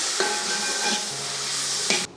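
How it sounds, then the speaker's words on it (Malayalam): Tamarind pulp squeezed into water is poured into a simmering Kerala theeyal curry, giving a steady close sizzle and bubbling hiss with a soft splash near the start and a brief clink near the end. "ഇതിലേക്ക് പുളി പിഴിഞ്ഞതും കൂടി ഒഴിക്കുക കേട്ടോ വാളംപുളി"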